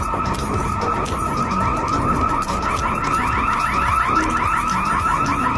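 An electronic alarm blares inside an abandoned power plant, a loud continuous warbling tone that pulses rapidly and repeats without pause, filling the space at close range.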